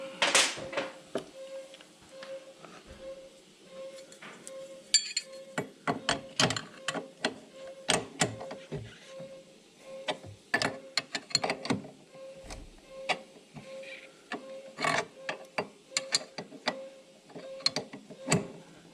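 Hand tool tightening the top brake caliper bolt on a C4 Corvette, a close series of irregular metallic clicks and ratcheting ticks in quick bursts with short pauses and a faint steady hum beneath.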